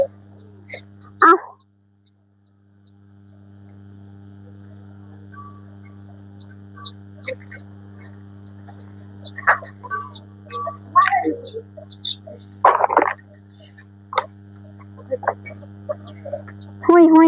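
Scattered quacks and squawks from a flock of ducks, some loud and close, others faint, over a steady low mechanical hum.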